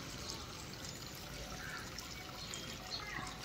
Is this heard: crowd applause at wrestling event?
no